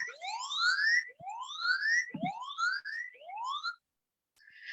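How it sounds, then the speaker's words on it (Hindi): A phone app's siren alarm rings loudly even with the phone set to silent, sounding as four rising, whooping sweeps in a steady rhythm, then a short pause before a faint tone returns. "आप देख सकते हैं यहाँ पे सायरन बज रहा है"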